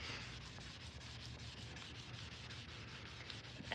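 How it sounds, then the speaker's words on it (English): A brass piece is rubbed by hand with a Durablock sanding block in quick, even back-and-forth strokes, a faint, continuous scratchy hiss that runs steadily for several seconds with no voices. "so last sanding on this piece"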